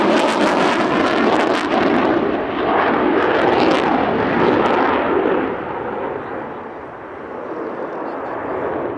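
A Tranche 1 Eurofighter Typhoon jet flies a display at the RAF Cosford Air Show 2024, its loud, rumbling roar filling the air throughout and easing slightly toward the end.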